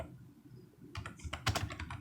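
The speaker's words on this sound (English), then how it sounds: "now we are typing in what it is now." Quick bursts of keystrokes on a computer keyboard, quiet and close, with sparse taps at first and then a denser flurry of clicks over the last second.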